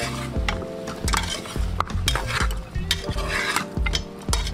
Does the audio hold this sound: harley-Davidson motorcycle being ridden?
no